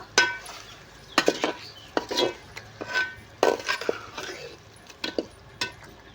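Chicken being stirred and mixed in a pot for biryani, with scattered utensil scrapes and clinks at an uneven rhythm over a quiet background.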